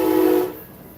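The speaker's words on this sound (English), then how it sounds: "You know the train got to make an appearance in all my videos." A passing train's horn blares loud and sustained for about half a second, then cuts off and gives way to quiet rumble.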